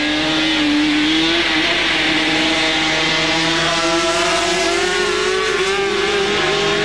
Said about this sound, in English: See the back end of Rossi's thing just sort of spinning a bit when he's getting on the power